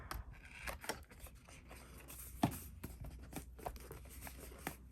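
Scissors snip scrapbook paper in a series of small, close, crisp cuts spaced irregularly, with a slightly louder snip near the middle and light paper rustling between them.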